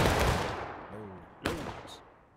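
Artillery fires in the Civil War video game War of Rights, a heavy booming blast that rolls away slowly, followed by a sharper crack, with a brief voice faintly underneath.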